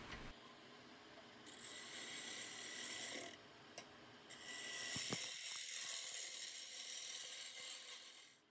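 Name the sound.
adjusting the tool rest on a wood lathe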